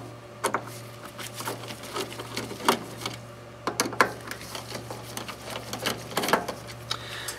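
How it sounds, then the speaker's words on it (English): A Torx 10 driver removing the screws around the service station of an RTI Vortex 4200 printer, with scattered small clicks and ratcheting ticks from the tool over a steady low mechanical hum, close and fairly quiet. "We're going to use a torque 10 driver and remove the 4 screws that surround the head."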